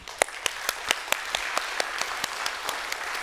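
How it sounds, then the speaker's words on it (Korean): A church congregation applauding steadily at an anniversary service, with sharp, evenly spaced claps standing out over a dense wash of clapping in a reverberant room. "힘찬 영광의 박수 올려드리죠"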